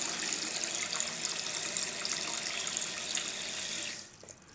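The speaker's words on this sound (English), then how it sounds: "Pull the flapper up a little just to allow a little water to come in." Water rushing steadily into a toilet tank after the flapper is lifted, close and continuous, then dropping off abruptly near the end.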